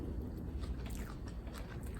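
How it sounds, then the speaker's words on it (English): Close, crisp crunching of someone biting and chewing a chicken Caesar lettuce wrap, steady and continuous with no talking. "you can hear the lettuce crunching"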